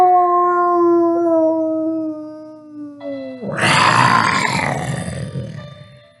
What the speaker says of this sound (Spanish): convertido en aquel poderoso jaguar, lanzaba un aullido de terror